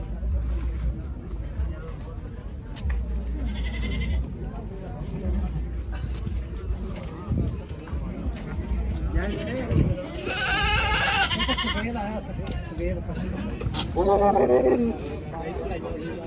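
Goats bleat several times in the background at a livestock market while people talk nearby over steady outdoor noise.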